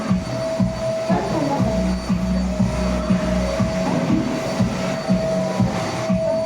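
A household vacuum cleaner runs with a steady droning hum in the background of an indoor room, while people talk nearby and small clicks and knocks come and go.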